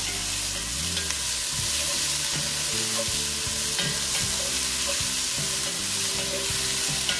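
Chopped onion and shallot fry in rabbit cooking juices in a pan, a bright continuous sizzle with repeated scraping strokes of a spoon stirring close by, no voices.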